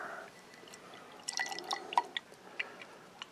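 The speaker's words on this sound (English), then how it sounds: "going a lot more aggressive than normal on the pour" Chocolate peanut butter porter, a 6.5% beer, poured aggressively into a glass, giving faint liquid splashing followed by a scatter of small, quiet drips and fizzy pops close by, with no talk.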